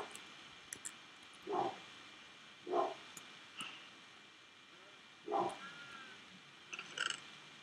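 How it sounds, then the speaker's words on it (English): Several short, separate barks from a dog in a Minecraft game, spaced a second or more apart against a quiet background with faint clicks. "My dog is barking at something."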